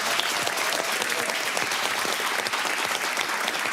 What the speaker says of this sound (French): Et ben voilà, on applaudit sa maman.